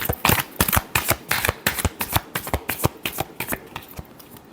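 Tarot cards being shuffled by hand, a close, loud run of rapid rhythmic riffling slaps repeating steadily for several seconds with no voice over them.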